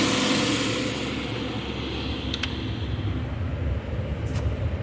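A burnt and repaired 1995 Jeep Grand Cherokee ZJ engine runs steadily after its timing was sorted out. It makes a loud, continuous idle rumble close by, with a couple of faint clicks and no talking.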